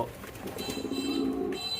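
Pigeons on a pigeon farm give low, burbling coos close by over a faint background hum, a short continuous stretch with no voices.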